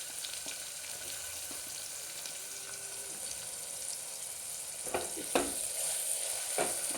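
Onion and mixed vegetables fry in hot oil for vaghareli khichdi, giving a steady low sizzle with a few louder stirring scrapes and clinks near the end; no one speaks.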